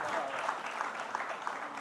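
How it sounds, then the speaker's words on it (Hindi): A crowd at a live event applauds poet Ashok Chakradhar with steady, dense clapping at close range, sustained without pause throughout. "जोरदार तालियां अशोक चक्रधर जी"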